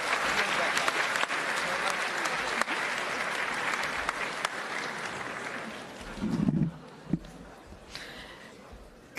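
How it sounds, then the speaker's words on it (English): Clapping from a graduation audience honoring award recipients fills most of the stretch, dense and sustained, then thins and fades into scattered claps, a low voice and murmuring near the end. "Let's give them another round of applause."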